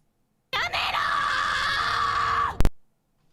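A loud, sustained human yell from a soundboard effect, rising into a long, strained scream for about two seconds, then ending with a brief sharp burst. No one speaks over it.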